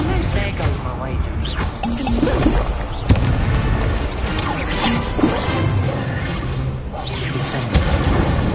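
Incendio fire spell cast in Hogwarts Legacy, a loud continuous roar of crashing booms, whooshes and impacts layered over game audio, with a sharp hit near the three-second mark and a voice talking over it.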